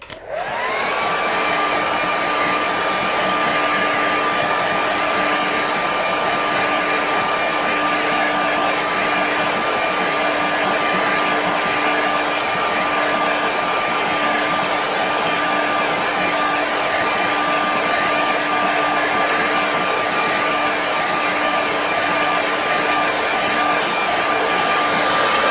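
A hair dryer blows steadily on a watercolour painting, a loud, continuous whooshing roar with a constant motor whine that starts abruptly and holds unchanged for the whole stretch, with no voices.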